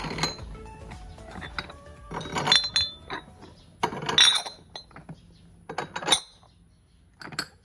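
Metal weight plates for a 15 kg dumbbell set clink and clatter while being assembled, sharp ringing hits coming in uneven clusters, some close and loud, others lighter, with quiet pauses between.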